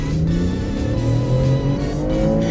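A 2023 Chevrolet Traverse on bald tires accelerates hard on a wet surface, its engine note climbing steadily and loud throughout, close by with tire noise underneath and no talk.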